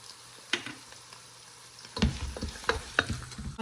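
Crushed garlic, ginger and green chili frying in a pan: a quiet sizzle with a single tap, then louder spluttering and scraping as the mixture is stirred, with several sharp spoon knocks against the pan.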